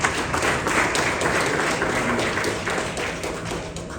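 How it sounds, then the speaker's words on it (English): Big audience applause in a room at a social entrepreneur of the year awards ceremony, a dense, steady wash of many hands clapping that holds loud for about four seconds and eases slightly toward the end. "Big applause for you."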